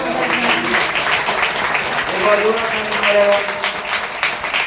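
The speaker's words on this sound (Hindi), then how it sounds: "एक बार जोरदार ताली करो," A church congregation claps loudly and steadily at a prayer gathering, a dense wash of many hands with a voice singing or speaking over it in places.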